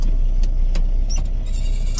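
A Cummins-powered semi truck hauling a spread-axle step deck trailer drones steadily while driving, a continuous low engine rumble with faint clicks and rattles from the cab.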